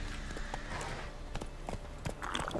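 Horse hooves clip-clopping during a ride in The Witcher 3 game, a steady run of dull thuds under continuous background game ambience.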